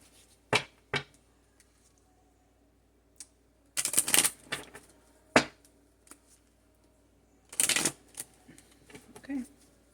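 Kipper fortune-telling cards being shuffled by hand: several short, sharp bursts of riffling and snapping at irregular intervals, close and crisp against near silence.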